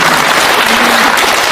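A lecture audience breaks into dense, sustained applause, a steady wash of many hands clapping together throughout, with no voice rising above it.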